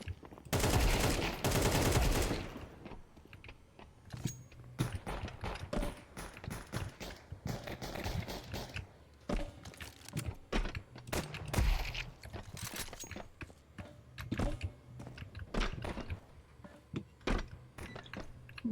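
Gunfire in a Counter-Strike-style defusal video game, with sharp shots in bursts and single cracks, first one loud sustained volley, then scattered bangs mixed with footsteps and clicks at moderate level.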